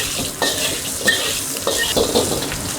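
Prawns fry in a hot wok for char kway teow, a steady close sizzle broken by repeated scraping and stirring strokes of the utensil against the metal, with no talking.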